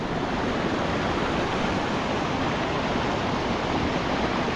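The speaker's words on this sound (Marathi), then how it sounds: "खूप जोरात पाऊस आहे, डेंजर पाऊस।" Heavy monsoon rain pours down near a stream by Mulshi Lake, a dense, loud, unbroken hiss of falling water that holds steady for the whole stretch, with no talking.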